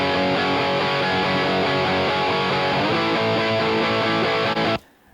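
Recorded electric guitar track, dense and sustained with a driven, slightly distorted tone, playing continuously at full level for almost five seconds before stopping abruptly.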